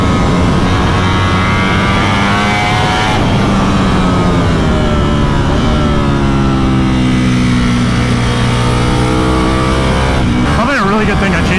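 A Ducati V4 race motorcycle on a private track day screams at high revs, loud and near, its pitch climbing through gears with brief drops between shifts, plus a quick burst near the end.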